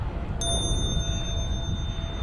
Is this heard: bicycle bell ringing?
yes